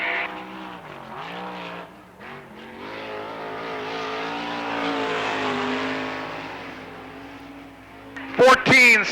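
A Crown Buick GMC sponsored dirt-track race car laps Lernerville Speedway, its engine note rising and falling loudly as it passes close, with a sharp burst of revving and tire noise at the end.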